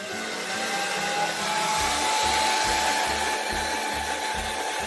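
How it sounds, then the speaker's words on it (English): A hair dryer on its low, cold setting blows steadily nearby, a constant airy roar with a faint motor whine and no break. "So I'm turning my hair dryer on the low setting."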